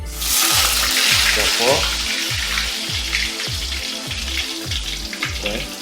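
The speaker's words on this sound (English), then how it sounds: "now let's fry this one by one." Tofu fries in a pan with loud, continuous sizzling and spattering oil, interrupted by rhythmic lower thumps. A voice speaks briefly over the frying.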